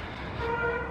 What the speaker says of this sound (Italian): lui va in giro col clacson schiacciato